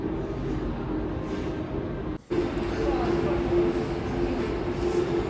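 A metro train rumbles steadily through an enclosed Bangalore metro station, a low continuous drone with a brief dropout partway through.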